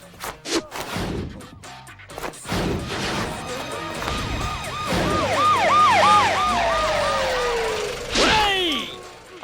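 An ambulance siren wails through a busy street scene in a Tamil comedy film, with its rising and falling tone loud and close, then a long falling whine, a sharp crash near the end and scattered bangs around it.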